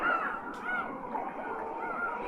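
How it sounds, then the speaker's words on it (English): Harsh seagull calls caw repeatedly on a beach over a steady wash of background noise, a few cries standing out, moderately distant. "seagulls on a beach."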